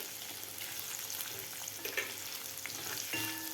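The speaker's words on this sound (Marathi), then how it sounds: "व्यवस्थित आपल्याला परतून घ्यायचं आहे आलं आणि जिरं" Ginger and cumin sauté in hot oil for a whole masoor pulao, giving a soft, continuous sizzle with occasional stirring scrapes, close but quiet, with no talking.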